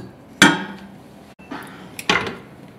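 Fried dough mixture for fried bagels is scraped and tipped from a pan into a mixing bowl, giving a few sharp clanks and knocks of utensil against cookware with brief scraping between them, close by and alone.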